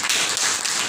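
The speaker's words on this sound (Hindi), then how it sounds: "ताली बजाइए भाई" Hindi-speaking audience at a Kanpur de-addiction centre breaks into dense, steady applause, many hands clapping close together for under a second with no talking.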